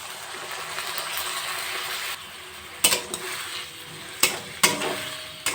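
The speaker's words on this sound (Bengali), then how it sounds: "আলু শসা সমস্ত মশলা টমেটো একসাথে ভালো করে কষিয়ে নেব" Potato, cucumber, tomato and spices stir-fried together in a pan, a steady sizzle broken by several sharp spoon-on-pan clatters and bursts of louder frying.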